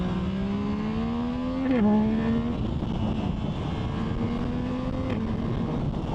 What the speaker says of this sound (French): faire gueuler un peu ce moteur.